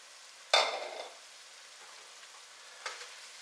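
Garlic and chili powder hitting hot fat for sloppy joes, a brief sharp sizzle that fades quickly, followed by a second faint burst of frying a couple of seconds later.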